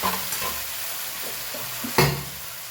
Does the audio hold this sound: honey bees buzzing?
no